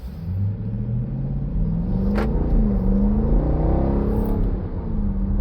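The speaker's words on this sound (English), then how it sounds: "Just wanted to see if you can hear the engine sound inside the cab." A deep V8 rumble of a new 2026 Dodge Durango R/T 392 fills the cab interior, rising and falling in pitch as it revs gently, steady and close throughout.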